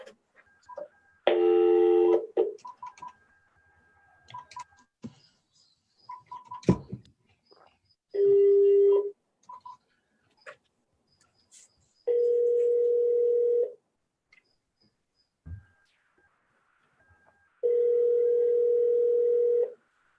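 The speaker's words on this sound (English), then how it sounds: "I'll phone Mrs. French right now" Telephone on speakerphone at a township committee meeting: short tone blips of keypad dialing, then several long steady ringback tones separated by pauses, loud and clear with no talk over them.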